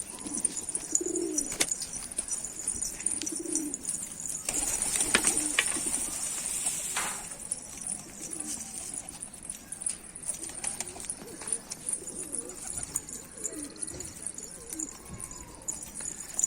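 Pigeons coo softly on a neighboring rooftop among scattered bird calls, with a steady high outdoor hiss and occasional light knocks in the background.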